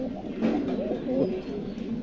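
Several pigeons coo from a backyard pigeon loft, low warbling calls that overlap in a steady murmur at close to moderate distance.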